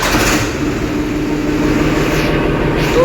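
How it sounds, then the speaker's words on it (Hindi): A Farmtrac 45 Promaxx 4WD tractor, a 2025 model, runs with a steady, fairly loud engine drone and a low throbbing hum, heard alone without speech. "अब कर लेते हैं ट्रैक्टर को स्टार्ट ट्रैक्टर का साउंड सुनने के लिए।"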